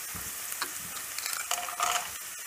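Broken cashew nuts fry and sizzle in a hot pan while being stirred for egg biryani, a steady close crackle with light scraping strokes throughout.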